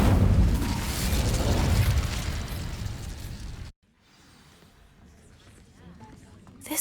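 An Incendio fire spell in Hogwarts Legacy ignites dry vines with a loud, roaring burst that holds for several seconds, then cuts off sharply into a quiet, low rumble that swells slightly near the end.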